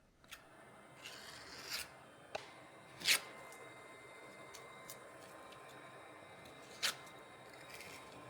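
Polyester putty spread over a boat hull crack with a spatula, heard as faint close scraping and rasping strokes, with a few sharper swipes standing out against quiet background noise.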